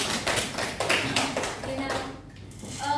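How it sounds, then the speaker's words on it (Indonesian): Classroom applause for a student group in an elementary civics lesson, a brief burst of light, quick claps that fades out after a couple of seconds, with faint murmuring voices. "Tepuk tangan dulu untuk kelompok 1."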